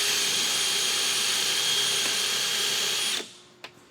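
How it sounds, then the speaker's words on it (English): A power drill whines steadily as it bores out stripped plastic body-clip fasteners on the core support of a 2004-2008 Ford F-150 with the 5.4L 3V engine, close and loud, then cuts off abruptly with a brief clack. "so I'm just going to drill mine out."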